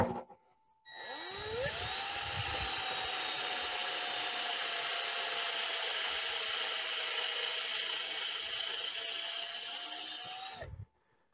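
A brad point drill bit is pushed into a spinning wooden birdhouse blank on a lathe, a steady whining hum with a cutting hiss that holds evenly for about ten seconds, then stops.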